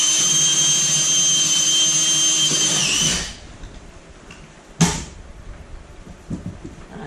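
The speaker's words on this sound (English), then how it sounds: "drilling it in." A power drill bores into the frame of a first wall under construction. Its loud, steady whine runs for about three seconds and then cuts out, followed by quieter handling noises and one sharp knock.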